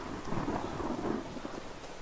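Steady rain hissing with a low rolling thunder rumble underneath, from a weather mod in the game Skyrim, a dense continuous wash at moderate volume with no voices.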